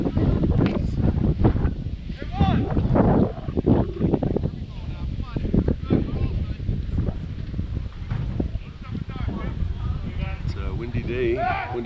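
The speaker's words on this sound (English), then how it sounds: "Windy morning here." Wind gusts across a microphone on a mesh fence at a baseball field during a morning game, producing a loud, continuous buffeting rumble that rises and falls, with voices in the background.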